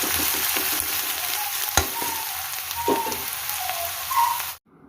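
Onion, ginger and garlic fry in hot oil for an Assamese-style local chicken curry, a loud, close, continuous sizzle with stirring clatters and a sharp knock before cutting off abruptly.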